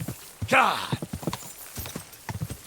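Horse hooves clip-clop at a trotting rhythm while riding in Kingdom Come: Deliverance II, with a horse whinny near the start and a voice talking over the hoofbeats.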